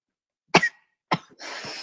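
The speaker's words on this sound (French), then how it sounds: "Laisse tousser aussi." Two sharp, close coughs about half a second apart, each a brief forceful burst, followed by a breathy exhale or throat sound, loud against otherwise silent surroundings.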